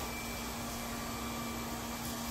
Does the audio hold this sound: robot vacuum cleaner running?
yes